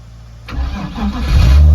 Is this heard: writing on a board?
no